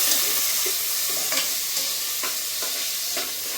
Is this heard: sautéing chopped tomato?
yes